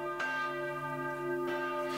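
Church bells ring out in a slow, resonant toll, two clear strikes with long humming overtones sustaining between them, moderately loud and unaccompanied by speech.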